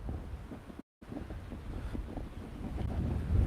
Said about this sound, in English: it's really windy over here. It just all of a sudden picked up.